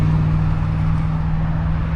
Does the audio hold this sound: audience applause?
no